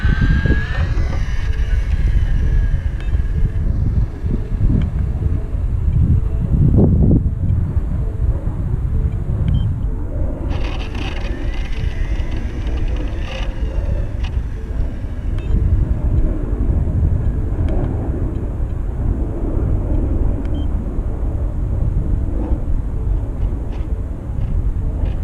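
Hobao VTE RC car at full throttle, its motor whining and tires scrubbing in a steady, loud buzz that runs unbroken, with a rougher surge near the midpoint.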